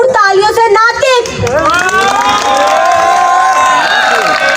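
An audience at a Urdu/Hindi poetry gathering breaks into loud cheering, whistling and clapping, a dense crowd roar that swells and holds for several seconds close to the microphone.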